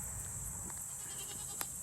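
Goats in a homestead goat pen let out a few faint, distant bleats over a quiet outdoor background with a steady high insect hum.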